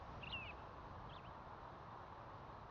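Faint bird calls in the game Power Wash Simulator: two short chirping phrases early on, soft and distant over a constant low ambient hum.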